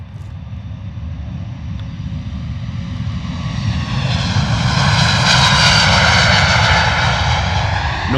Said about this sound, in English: Beautiful A321 Neo rolling.